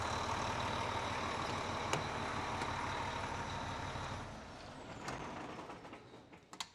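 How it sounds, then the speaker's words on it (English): A Volvo D13 diesel truck engine runs loud and steady, then shuts down partway through and winds down, leaving a few faint clicks and knocks in the quiet afterward. "So let me turn the truck off for now."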